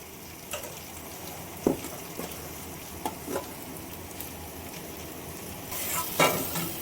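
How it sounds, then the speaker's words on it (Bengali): Mashed potato being stirred together with paneer and onion in a pan for a cheese burst paneer sandwich filling: a steady soft sizzle with scattered scraping and tapping of a spoon against the pan, heard alone without talk. "আলুটা পনির এবং পেঁয়াজের সঙ্গে খুব ভালোভাবে মিশিয়ে নিচ্ছি।"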